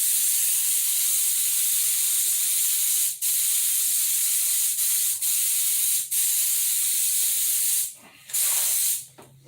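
Clear coat sprays from a spray gun in a steady, close, loud hiss, broken by a few brief pauses where the trigger is released.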